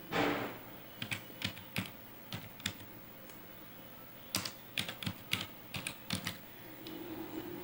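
Computer keyboard keys tapped while entering a group name in Tally Prime accounting software, coming as short bursts of crisp clicks with pauses between, close and fairly quiet, with no talking.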